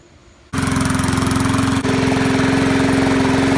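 A Rally 20-inch push mower engine fires up abruptly and runs steadily and loudly at close range, a rough rhythmic putter with a strong droning hum, no voices over it.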